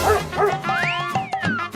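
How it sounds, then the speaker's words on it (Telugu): A dog barks and yips repeatedly in quick bursts, close by, with whiny, excited tones between the barks. "ఆ పక్కిలో కుక్క నా మీద అరిస్తుందిరా"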